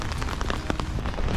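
Heavy rain falls steadily on a rainy day outdoors, a dense, loud, continuous patter of drops with scattered sharper hits and no voices.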